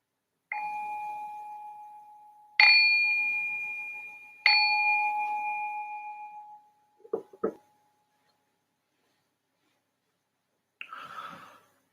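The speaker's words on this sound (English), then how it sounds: "I ring this bell to signal the start of the meditation." A meditation bell struck three times at an even pace, each clear ring sustaining and slowly fading into silence, followed by soft breathing and shuffling sounds in a quiet room.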